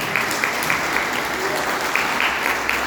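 Church congregation clapping together in steady, dense applause for Jesus, close and loud with a few faint voices mixed in throughout.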